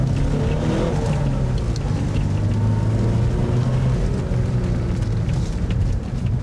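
A Porsche four-cylinder engine drones loudly and steadily from inside the car, a low, even rumble with slight rises in pitch under continuous load, with no talking.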